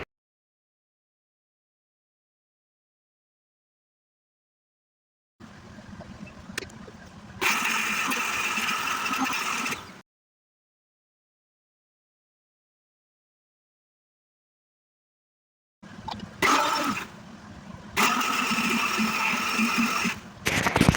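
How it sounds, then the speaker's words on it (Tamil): A mixer grinder jar whirs while grinding tamarind chutney (thuvaiyal), with two separate loud bursts of a steady motor drone, each starting in short pulses before running continuously. "இந்த டைமில் இதை நம்ம வந்து ஜாருக்கு மாற்றிட்டு அரைச்சி எடுத்துக்கலாம்"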